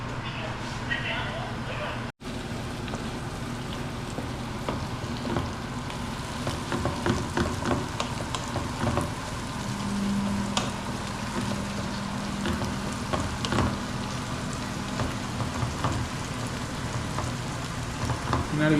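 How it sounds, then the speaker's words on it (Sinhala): Goat meat curry fries in oil for a long spell until golden, with a steady, even sizzle throughout. Someone talks over it now and then. "විනාඩි 20ක් තිස්සේ මේක හොඳට මේ රන්වන් පාට වෙන්න හොඳට මේ තෙලේ බැද ගන්නවා"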